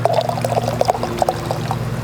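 Wine poured from a bottle into a paella pan, a steady close liquid stream with small gurgling splashes running continuously over low background hum.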